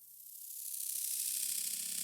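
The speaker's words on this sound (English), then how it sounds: "there's this kind of static sound that I've created" Glitchy static made by granular processing for a drum and bass remix: a bright, hissy crackle that swells slightly and then holds steady, with no voices.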